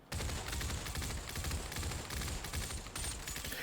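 Rapid, continuous bursts of MK18 rifle fire in the Population One VR game crackle densely and steadily without pause, loud and close.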